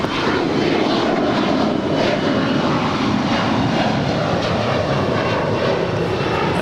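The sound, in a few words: Boeing 787-9 Dreamliner airliner arriving at LAX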